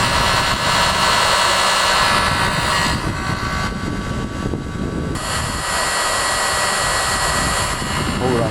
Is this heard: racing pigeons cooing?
no